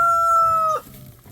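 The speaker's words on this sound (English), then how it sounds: "The chickens, the roosters crowing." A rooster's crow rings out close and clear in a hen yard, a sustained high call that ends abruptly, followed by quiet background.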